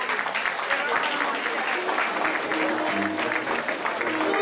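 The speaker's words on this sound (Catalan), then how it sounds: "amb un fort aplaudiment." An audience at a Valencian falla exaltation ceremony in Sueca gives strong, sustained applause, a dense steady wash of clapping with faint voices under it.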